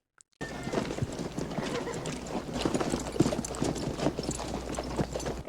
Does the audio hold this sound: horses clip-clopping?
yes